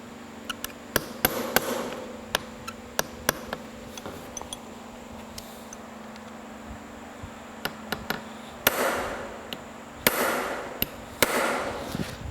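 A hammer drives a taper pin out of a LeBlond lathe apron in irregular, sharp metallic taps, some single and some in quick clusters, over a low steady workshop hum.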